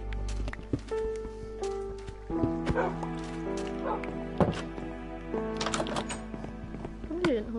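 Dogs in a video game bark in repeated short yips and woofs, mixed with thuds and other game effects over a steady background hum.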